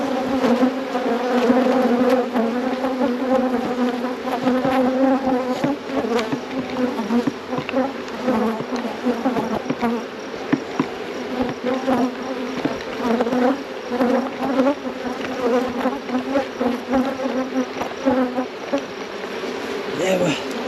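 Honeybees buzzing steadily and loudly around a hive as it is moved, a dense continuous drone with occasional knocks and handling bumps, no talk.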